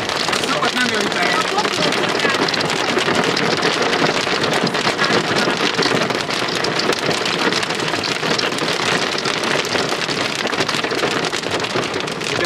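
Hailstones about one centimetre across mixed with heavy rain pelt a parked car in a hailstorm at Dabas, a dense, steady roar of impacts close by that lasts throughout.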